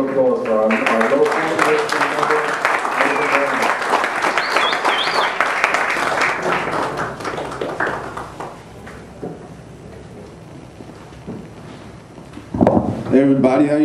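An audience applauds at a Zeitgeist Z-Day march performance event in New York City. Sustained clapping runs under loud voices and music, fades partway through, then returns briefly near the end.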